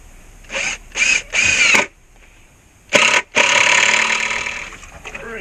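A cordless drill drives screws into pine sleepers while building a retaining wall: three quick whirring bursts, a pause, then a short burst and a longer sustained run, close and loud.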